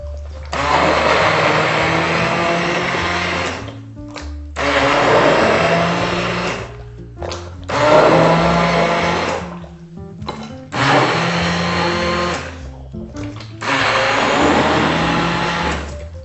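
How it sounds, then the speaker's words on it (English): A stick blender purees San Marzano tomato salsa in five loud whirring bursts, each lasting a couple of seconds and separated by short pauses, with the motor pitch wavering as it works through the tomatoes. "We're going to take the stick blender"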